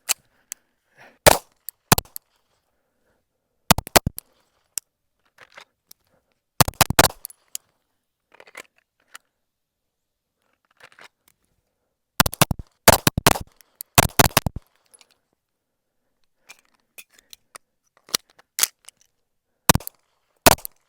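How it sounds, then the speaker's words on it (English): Sharp, loud 9mm pistol shots fired in irregular clusters at a range, the handgun fitted with a CH Precision optic, each crack separated by silent pauses, with no talking. "So let's go ahead and get some shots in."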